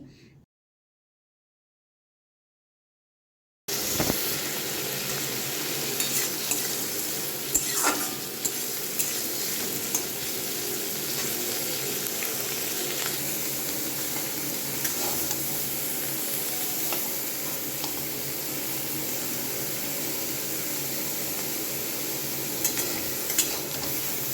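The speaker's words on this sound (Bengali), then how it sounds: "পেঁয়াজ লঙ্কা আর টমেটোগুলো একটু ভাজা ভাজা করে নুন হলুদ লঙ্কা গুঁড়ো" Onion, chili and tomato fry in a pan after a few seconds of silence, giving a continuous close sizzle with occasional scrapes and taps as they are stirred.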